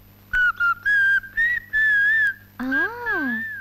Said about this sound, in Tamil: விசில் வேற அடிக்கிறியா?